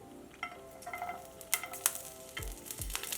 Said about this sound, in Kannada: ಚೆನ್ನಾಗಿ ಫ್ರೈ ಮಾಡ್ಕೊಳ್ಳೋಣ ಶುಂಠಿ ಎಲ್ಲ ಗಮ್ ಅಂತ ಸುವಾಸನೆ ಬರಬೇಕು